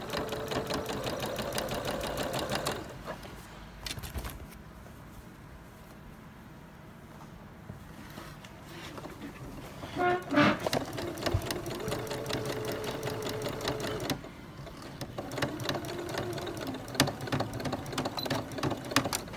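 Sewing machine stitching a fabric bag with reverse stitching, a close rapid mechanical chatter that pauses briefly and resumes, alone without talk.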